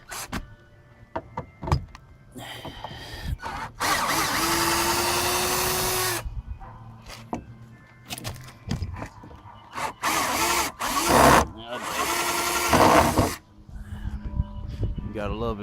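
A power drill whines in several bursts while backing decking screws out of old boards during a building tear-down. The bursts are interspersed with knocks, scraping wood and handling noise, and a voice speaks between them.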